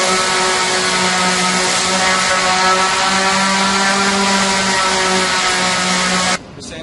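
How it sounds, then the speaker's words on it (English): A random orbital sander runs steadily across a nightstand case in a workshop, a loud continuous whirring drone with a constant hum that holds evenly before cutting off abruptly near the end. "The sander is a random orbital, and it has to oscillate"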